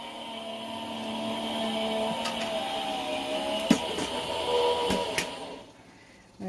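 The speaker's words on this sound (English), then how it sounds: "Whenever I hear my machine crack like that, it makes me nervous." A Gemini die-cutting machine hums steadily while pressing layered craft stamp pieces, with a few sharp cracks snapping out over the motor before it winds down and stops.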